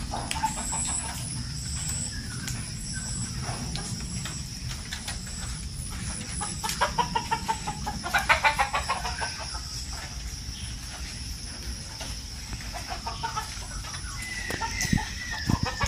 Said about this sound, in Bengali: দেশি মুরগি আছে, পাকিস্তানি মুরগি আছে।